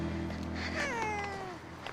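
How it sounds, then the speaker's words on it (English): A grumpy Sphynx cat at a veterinary college lets out one drawn-out, falling meow over a steady low background hum. "Marie has arrived with her grumpy Sphynx cat for Banu's appointment"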